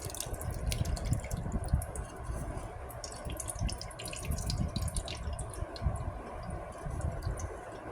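Cooled milk pours and trickles through a cloth strainer, a soft steady run of liquid with drips and faint splashes throughout, fairly quiet and with no one talking.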